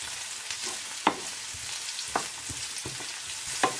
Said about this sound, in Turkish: Pırasayı ilave ettikten sonra 1 dakika kadar daha kavuruyoruz.